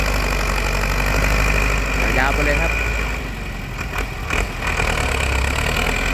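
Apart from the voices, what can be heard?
Ford tractor engine running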